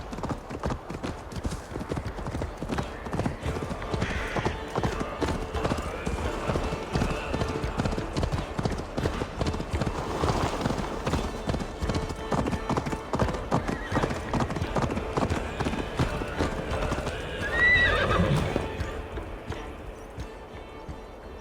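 Horse hooves clip-clop steadily throughout on a ride in Assassin's Creed Valhalla, with a horse neighing and whinnying near the end, under a dense game soundscape.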